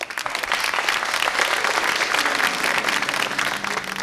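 Warm, continuous applause from a seated audience welcomes a singer at an evening music mehfil broadcast on PTV, the clapping staying full and steady for several seconds with no one speaking over it.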